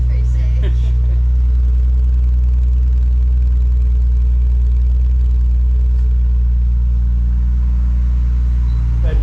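Nissan Skyline idling with an HKS Hi-Power 409 stainless exhaust and JJR front pipe, a loud, steady low rumble close up, with brief talk at the start and a slight rise in revs near the end.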